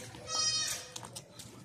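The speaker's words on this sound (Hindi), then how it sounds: "कितनी ज़बरदस्त बकरी है।" A large milking goat in a village bleats once, a loud wavering cry up close, followed by softer rustling and background noise.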